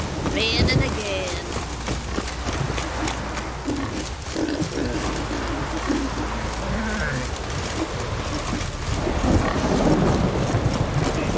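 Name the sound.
rain and thunder in The Witcher 3 video game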